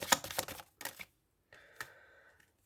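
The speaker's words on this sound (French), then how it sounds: "je vais tirer quelques cartes" Tarot cards drawn from a deck, heard as a few quick, close papery flicks and snaps, then a softer slide with a brief faint ringing tone before silence.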